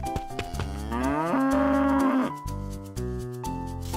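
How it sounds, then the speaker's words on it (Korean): A calf moos loudly and close by, one long drawn-out bellow that swells and then breaks into shorter lowing calls, with nothing else audible around it. "그리고 송아지 한 마리를 잡았어요."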